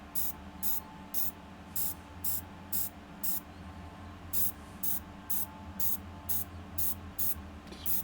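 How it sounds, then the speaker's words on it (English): Short hissing bursts from a paint spray airbrush shading a Dracula model, about a dozen quick puffs in an uneven rhythm, close and soft over a low background hum. "I'm spraying where the shadows were, just to bring a little bit of contour"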